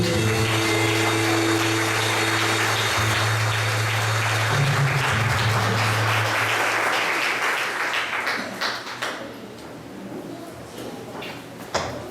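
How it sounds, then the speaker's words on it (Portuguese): A church congregation applauds during a worship service, with broad steady clapping layered over sustained music tones; the applause thins and fades toward the end, leaving a few scattered claps. "Dê uma salva de palmas, Jesus."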